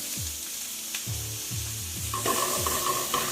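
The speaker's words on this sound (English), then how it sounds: "Just fry this for a little while." Diced onion, celery and carrot fry in olive oil, giving a steady sizzle with a few low, knocking stirs of the pan across the whole stretch. A thin tone joins near the end.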